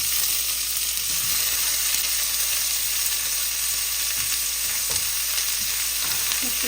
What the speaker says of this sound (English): Once that's tossed, add the onion and the tomatoes all together.